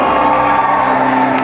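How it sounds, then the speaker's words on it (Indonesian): Crowd of veterinarians at a large gathering of thousands clapping and cheering, a dense, steady wash of applause and whoops filling the space without pause. "Boleh tepuk tangan untuk Anda semuanya."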